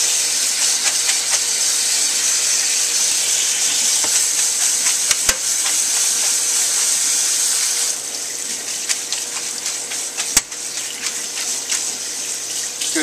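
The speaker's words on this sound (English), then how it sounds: "I can do a couple of these big cans at a time. And I'm just going to rinse them." Canned beans, several large cans' worth, rinsed in a kitchen sink under a steady running tap, a constant rushing splash with a few sharp clanks of the metal cans, the flow easing slightly toward the end; no speech.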